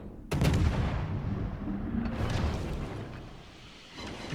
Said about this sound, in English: I'll take a couple of salvos at him.